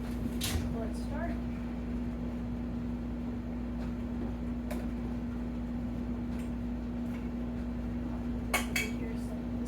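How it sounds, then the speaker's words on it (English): Dishes and cutlery clink and clatter in a home kitchen as a dishwasher is loaded, with sharp bright knocks at scattered moments over a steady appliance hum. "Simple tasks like loading the dishwasher."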